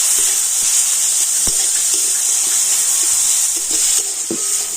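Cut tomato, salted, fries in a hot pan as part of a pumpkin dish, giving a loud, steady close sizzle throughout with occasional light clicks and stirring taps, no voices.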